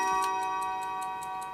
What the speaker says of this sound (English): This is a chiming clock.